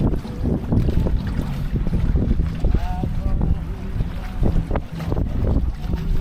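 A gaff-rigged Welsford Penguin trailer-sailer moving briskly in picked-up wind, with water rushing and slapping along the hull, gusty wind noise and occasional creaks, loud and close.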